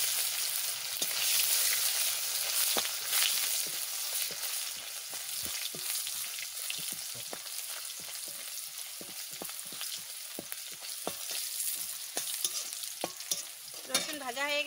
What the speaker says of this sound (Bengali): আমি আর একটুখানি তেল দিয়ে দিচ্ছি। সর্ষে দিয়ে দিচ্ছি। সর্ষে পোড়া পোড়া হয়ে গেছে, ঘ্রাণ বের হয়ে গেছে। আমি এখন রসুন দিয়ে দিচ্ছি।